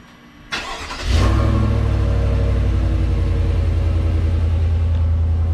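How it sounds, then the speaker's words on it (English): A 2021 Chevrolet Tahoe with stock exhaust cold-starts: a quick starter whir, then the engine catches and settles into a loud, steady, deep idle rumble close by. "Should we do our first cold start on the Tahoe?"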